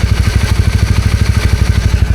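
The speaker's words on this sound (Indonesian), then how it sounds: "Ini suara mesin masih enak." A motorcycle engine runs loud and close on a long Borneo touring trip, a steady low rhythmic idle-like chug with mechanical clatter, no voices over it.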